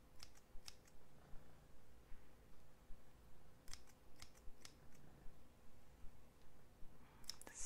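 Scissors snip close to the microphone during a gentle personal-attention haircut, giving crisp metallic cuts in small clusters spread over quiet, soft background rustling.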